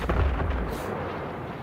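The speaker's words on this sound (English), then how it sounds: "Orbiting and shooting." Spaceship weapons firing in EVE Online, a heavy rumbling blast that opens loud and then fades into a dense, rolling roar.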